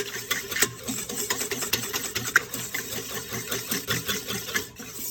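An electric mixer whirs through royal icing with cream of tartar, giving a busy, rattling motor drone with quick uneven pulses. It sounds close and moderately loud and runs steadily throughout, with no talking.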